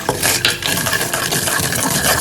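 Cumin seeds, peanuts and crushed dry red chilies being stirred in a hot pan with a spoon, a continuous close scraping and rattling of seeds with light sizzling, no talk.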